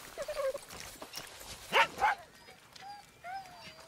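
A dog in the video game Far Cry 6 gives a few short barks and yips mixed with whimpering whines, close and moderately loud over a quiet game background.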